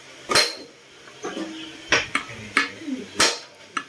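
Sharp metallic strikes hammering a nut on a Honda Click 125 motorcycle part, a handful of ringing clanks at irregular intervals with quieter knocks between them, close and alone.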